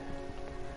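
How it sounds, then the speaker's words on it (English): A short stretch of Minecraft rain gives a constant, even patter and hiss with no talking, though a steady background hum sits underneath it. "there's some more rain."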